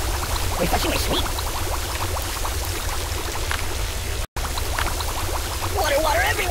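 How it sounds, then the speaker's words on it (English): Water pours steadily onto the buddy character in the video game Kick The Buddy, a continuous splashing stream with a cartoon voice speaking over it. "Water, water everywhere!"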